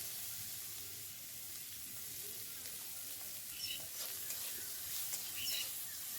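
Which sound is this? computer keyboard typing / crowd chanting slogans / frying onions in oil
frying onions in oil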